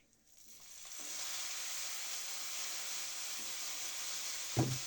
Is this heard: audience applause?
no